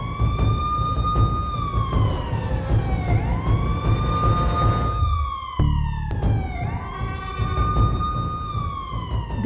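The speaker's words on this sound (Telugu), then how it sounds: "ఇదేంటి ఇంకా 5 నిమిషాలుండగానే సైరన్ మోగింది?" A police-style siren wails loudly and steadily, its rising and falling tone sweeping over about nine seconds with a brief dip in the middle and no voices.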